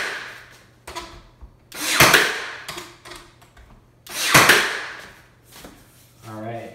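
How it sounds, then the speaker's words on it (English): A nail gun drives inch-and-a-quarter brads into wainscoting, firing a handful of sharp, close snaps with clattering knocks and handling noise between them. "All right, so shoot some brads straight down. These are inch and a quarter brads."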